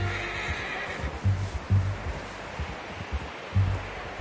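A horse in Red Dead Redemption 2 whinnies against a backdrop of rustling outdoor ambience, with a few soft hoof thuds underneath, all heard alone without any speech.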